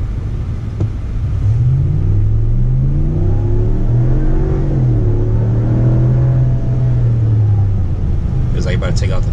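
A 2019 RAM 1500 Limited pickup truck accelerates hard, its engine note climbing and rising in pitch as a loud, close, sustained roar, with a voice speaking briefly at the end.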